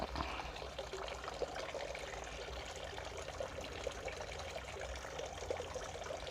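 Water trickles and pours steadily as a planted basil cutting is watered, a soft continuous splashing close by and fairly faint.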